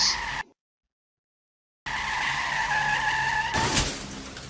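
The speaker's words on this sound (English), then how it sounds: "Screeches." Car tires screech sharply in a short sound-effect sequence, a high squealing tone that breaks off into silence and then returns with a harsher skid and a closing thump.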